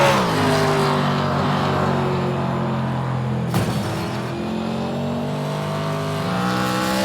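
A number 13 Chevy race car on track in the iRacing sim, its engine droning loud and steady at high revs, dipping briefly midway and then climbing again.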